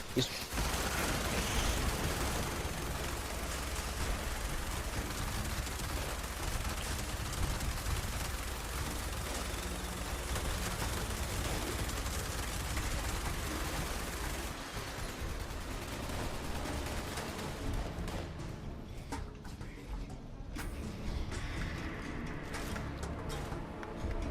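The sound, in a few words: gunfire in the video game Fallout 76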